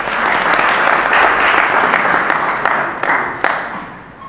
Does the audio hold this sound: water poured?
no